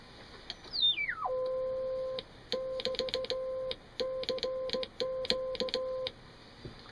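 Morse keying tone from a homebuilt 50C5 crystal-controlled transmitter: a pitch sweeps downward as it settles, then a steady beep is keyed on and off in uneven bursts of dots and dashes, clear and alone.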